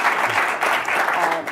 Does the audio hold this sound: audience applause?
yes